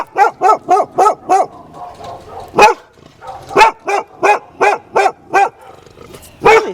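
A dog barks at its own reflection, sending a quick run of five loud, close barks, a pause with soft whimpering, then a single bark and another rapid volley of barks.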